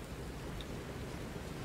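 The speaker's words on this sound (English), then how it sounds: "I guess it's been raining the whole time we've been outside" Rain in the Lies of P game world, a steady, soft wash of falling drops with no distinct events, heard alone.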